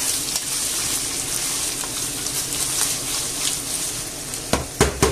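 Onion and garlic fry in a pan for a Spanish tomato sauce with pork, a steady, fairly loud sizzle close by, ending with a few sharp knocks of a utensil against the pan.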